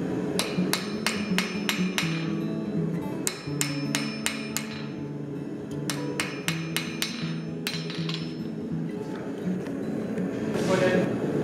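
A blacksmith hammers hot metal on an anvil, peening a vein texture with a sharp hammer, in rapid bursts of ringing strikes separated by short pauses, loud and close, with someone talking underneath.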